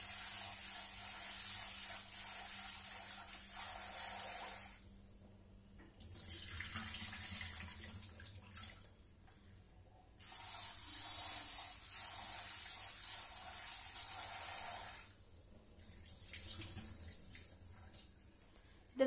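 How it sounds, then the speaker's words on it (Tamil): Jowar grains washed under running tap water in a sink: steady hissing streams of water in long bursts, broken by brief pauses when the flow stops. "இப்ப நம்ம சோளத்தை கழுவி எடுத்துக்கலாம்."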